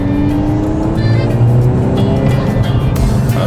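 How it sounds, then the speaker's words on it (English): An accelerating VW MK8 Golf R with an aftermarket intake and Stage 1 tune gives a loud, close engine drone whose pitch climbs steadily, with a rising turbo whine above it and faint fluttering bursts near the end. "you can hear the turbo noise from the outside of the car"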